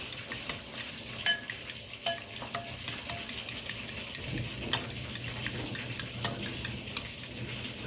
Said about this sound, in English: I'm going to put some lemon pepper in my egg. And I'm just going to whisk it a little bit.